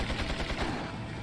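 Rapid Gatling gun fire in Resident Evil 4, a dense, sustained burst of shots filling the short stretch at steady loudness.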